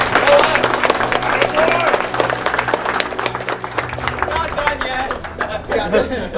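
A crowd at a Warmachine tabletop gaming tournament applauds with dense, steady clapping while people talk and cheer over it, the applause continuing throughout.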